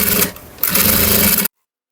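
A sewing machine stitching a small fabric piece runs in a steady, close, loud whir, pauses briefly, then resumes before stopping abruptly.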